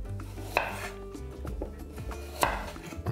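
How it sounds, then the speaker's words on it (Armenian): A knife cuts carrots diagonally on a board into thick pieces, giving a few sharp chopping knocks among quieter rubbing and scraping sounds in a home kitchen, with no talking. "կտրատում եմ շեղակի"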